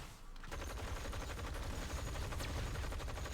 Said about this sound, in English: you can see the 6 Magnum shots there, they look pretty great, and he fires them off nice and quick as well